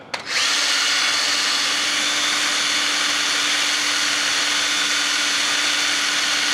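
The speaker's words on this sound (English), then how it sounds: "We'll use the drill again" A power drill spins a low-RPM generator, whirring at a steady high pitch, starting abruptly and running continuously without pause, close and loud.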